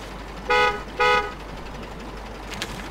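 Two short, loud truck horn honks in the off-road driving game Spintires, sounding half a second apart over a steady low engine rumble.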